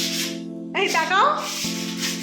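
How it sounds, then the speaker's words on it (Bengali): Wall putty being rubbed down by hand makes a steady, close scraping hiss. It sits under sustained musical tones, and a brief voice cuts in partway through. "নিজেরা পট্টি ঘষা শুরু করেছি"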